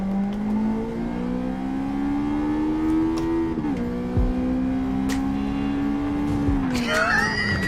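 A loud, sustained race car engine drone in Gran Turismo 7 holds steady pitch, dipping briefly and then revving higher near the end, with no talking.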